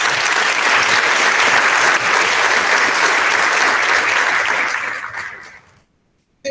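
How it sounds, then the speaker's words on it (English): Audience applause at a middle school recognition ceremony for students, a loud, dense, steady wash of clapping from a large crowd that holds for about five seconds, then fades out and stops. "Please join me in a round of applause for our students."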